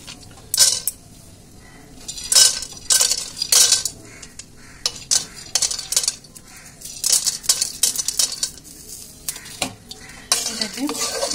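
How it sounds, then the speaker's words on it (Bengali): Roasted peanuts stirred in hot white oil in a wok, with repeated scraping and clattering strokes of a metal spatula against the pan in uneven bursts over a faint background sizzle. "এবার আমি বাদামগুলো হালকা নেড়ে চেড়েই আমি তুলে নেব"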